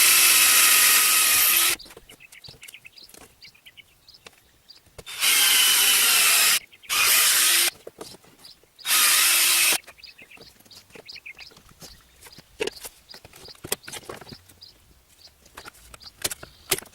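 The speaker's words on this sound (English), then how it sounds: "I'm going to drill some pilot holes so that it'll be easier to get in once I get it all together" A power drill bores pilot holes in a thin piece of wood, three short loud bursts preceded by one longer run, separated by quiet gaps with faint birdsong and small handling sounds.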